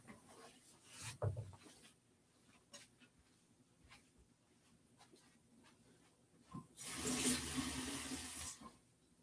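Water running from a tap as a glass is refilled, a loud steady gush lasting about two seconds after quieter rustling and handling noises.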